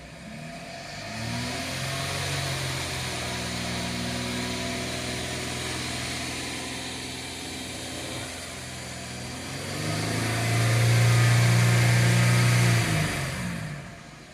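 A 2013 Mercedes ML engine idles steadily with a rattling, knocking noise, then revs louder around the tenth second and settles back, running alone with no talk.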